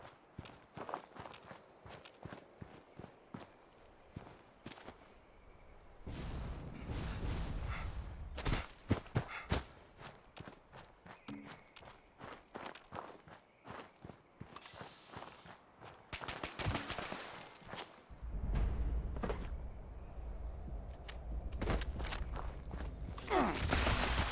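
Footsteps in Fallout 76, a quick run of walking and running steps across the game world, with bursts of heavier impact-like noise and no speech.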